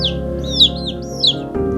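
Indian Shamo chicks cheep in high, sweeping peeps, two louder calls standing out over a soft, steady low hum.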